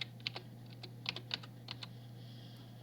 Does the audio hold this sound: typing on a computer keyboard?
yes